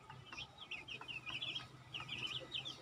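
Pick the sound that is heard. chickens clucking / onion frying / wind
chickens clucking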